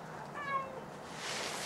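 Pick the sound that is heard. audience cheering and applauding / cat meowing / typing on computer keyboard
cat meowing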